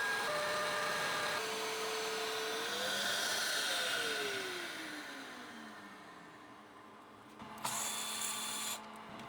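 A CNC machine runs a chamfer operation on FPV drone frame arms held down with screws, giving a steady, loud whine whose pitch glides and sweeps as the cutter moves, with a brief harsher burst near the end.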